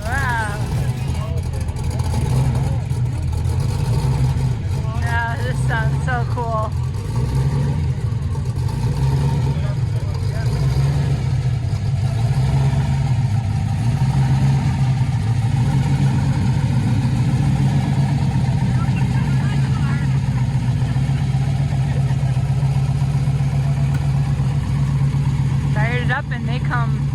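Six-cylinder car at an outdoor car show holding a steady, loud engine drone with a few revs, while people talk over it throughout.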